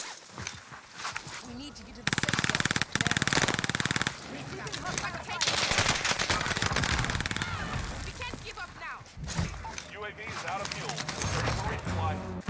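Rapid automatic gunfire bursts and single shots ring out in a Warzone battle royale match, loud and close, while players talk over the shooting.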